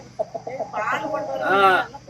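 Meat chickens on a small poultry farm, raised to about 2 to 2.5 kg: a few short clucks, then a longer, louder squawking call, heard close by.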